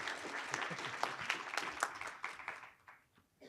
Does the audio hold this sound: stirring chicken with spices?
no